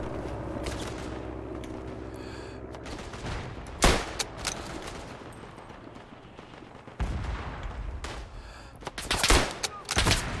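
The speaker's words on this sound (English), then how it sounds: "Luckily the HMG is not too accurate, but he still got me with it." Heavy machine gun fire rattles across a WW1 battlefield in Tannenberg, with bursts of rapid shots and loud nearby cracks mixed with scattered gunfire and brief faint voice sounds.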